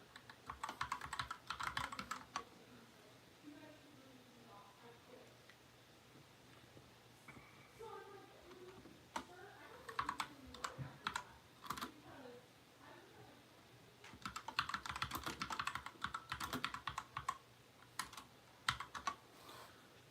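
Keystrokes clatter on a computer keyboard in steady bursts and pauses, fairly close, with a voice speaking intermittently over the typing during a live gun-talk stream.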